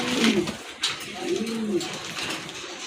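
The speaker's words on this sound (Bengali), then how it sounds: "মাশাআল্লাহ কত সুন্দর এক জোড়া কবুতর ইনশাআল্লাহ" A pair of domestic pigeons coo at close range, several soft, rolling low calls repeating over a light background hiss.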